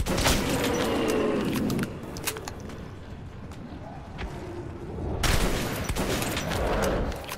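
Rifle gunfire in the Metro video game, bursts of rapid shots layered over a dense, loud in-game soundscape that swells and eases, with no speech over it.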